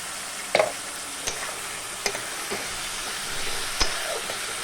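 Pasta ingredients fry in oil with a steady sizzling hiss while a utensil stirs them, scraping and clacking against the pan several times.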